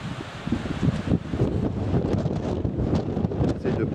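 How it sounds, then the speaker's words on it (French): A strong wind gust buffets the microphone on an exposed mountain ridge in the Jura, keeping up a steady, loud roaring rumble throughout with no pauses. "j'essaie de pas me casser la gueule parce que le vent, sacré rafale."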